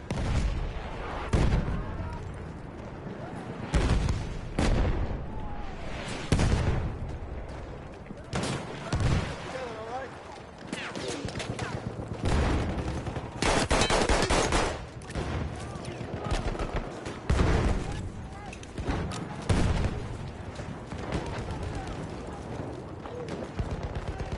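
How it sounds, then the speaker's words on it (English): Battlefield 1 combat with dense gunfire: rapid machine-gun bursts and heavier booms crowd a noisy battlefield, loud and layered, with shouting voices mixed in throughout. "Machine gun! One of theirs!"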